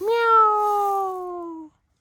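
A single drawn-out meow, close and clear, its pitch sliding gently downward before cutting off abruptly.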